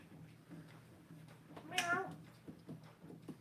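A person imitates a cat with one short, rising meow during a board game session. It stands out sharply at the midpoint over a quiet room with faint background murmur.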